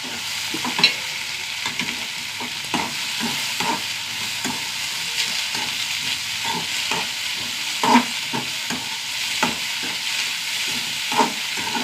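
Onions and curry leaves frying in oil in a pan for a cabbage curry, a steady close sizzle with soft scattered stirring scrapes and occasional louder clacks, no talking.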